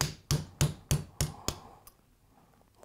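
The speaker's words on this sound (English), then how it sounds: "use a non-mooring hammer to get it started" A non-marring hammer taps a pin into a Rock Island Armory 2011 A2 pistol grip assembly with six sharp, evenly spaced strikes. A few faint clinks follow in near silence.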